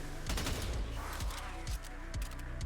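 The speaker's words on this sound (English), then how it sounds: "I'm firing the exact same bullets." Rapid gunfire from a weapon in Warframe, a quick run of punchy shots with low thumps, steady and fairly loud over a constant background game hum.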